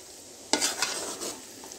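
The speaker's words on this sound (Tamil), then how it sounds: "சிம்மில் வச்சு ஓட்டுறேங்க" A spoon stirs a coconut candy mixture in a pan over a low flame, giving a short series of soft scraping strokes with a light sizzle, close and quiet, after a brief silence.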